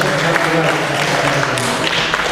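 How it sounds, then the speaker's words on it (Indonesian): Steady audience applause at a government welcoming event in Klojen district, a dense continuous patter of clapping throughout the short stretch with faint voices underneath. "tepuk tangan untuk Kecamatan Klojen"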